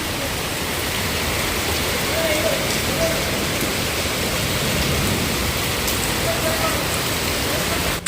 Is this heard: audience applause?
no